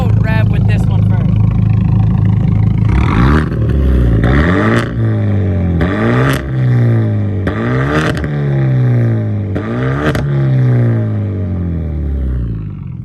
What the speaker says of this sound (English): on the catback Genesis, the idle isn't as loud, but it still has like that loud raspy sound. So I'll do like a little rev with this one first.